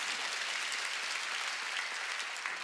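A church congregation applauds together at a charismatic Sunday worship gathering, a dense, steady wash of clapping from many hands that holds at an even loudness throughout, with no voices rising above it.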